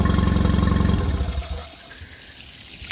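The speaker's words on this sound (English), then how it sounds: "I'm going to shut the water off so I'm not wasting water." Water runs loudly from a hose or tap beside a Mercury 20 HP outboard engine, whose idle pulses for the first second before cutting off, then the flow tapers to a faint trickle.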